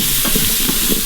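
Crushed garlic sizzles loudly in an Instant Pot while beef bourguignon is being made, a dense, steady hiss of frying with faint stirring scrapes.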